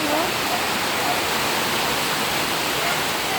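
Floodwater from heavy typhoon rain flowing at a flooded home, a steady broadband rush like a torrent that stays loud and constant throughout, with a faint voice underneath.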